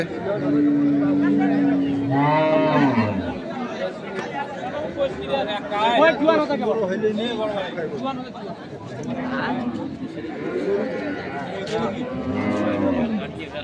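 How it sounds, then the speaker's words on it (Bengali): A cow moos at a busy cattle market at Ambari haat in Dinajpur, one long low call near the start among constant chatter and the hubbub of traders and livestock. "এখানে একটি গরু নিয়ে টানাটানি চলছে"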